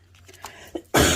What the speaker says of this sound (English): It was just a really bad cough.